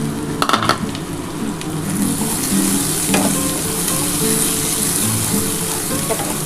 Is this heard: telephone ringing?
no